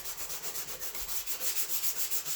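Car paint on a 1984 Trans Am Special Edition is scuffed by hand, a soft, close abrasive rubbing in quick, even back-and-forth strokes, about six per second.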